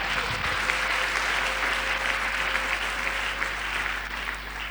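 Congregation at a church service applauding the Lord, steady sustained clapping from a large crowd that holds evenly throughout, with a low hum underneath.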